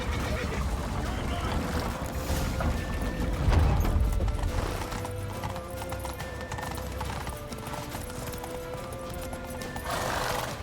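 A horse's hooves clip-clop at a steady gallop in The Witcher 3: Wild Hunt, with an occasional whinny over in-game background sound, while a person talks over it.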